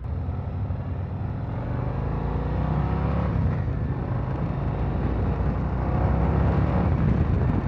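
A 2023 Harley-Davidson CVO Street Glide motorcycle rides off, its engine a steady, close, dense rumble blended with road and wind noise that builds slightly toward the end, with no talking.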